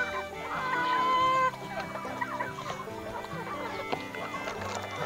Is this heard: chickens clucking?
yes